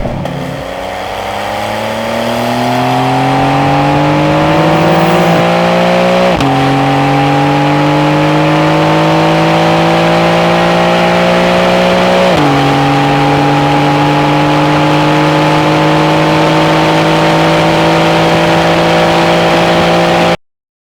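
A 2025 Porsche 911 Carrera 992 accelerates hard through three gears, its engine note climbing steadily then dropping at each upshift, loud and close, with no talking.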